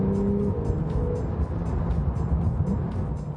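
Turbocharged engine of a 2017 Porsche 911 Carrera 4S, a loud steady drone of the car driving with a low engine tone and road noise throughout, heard alone without talk.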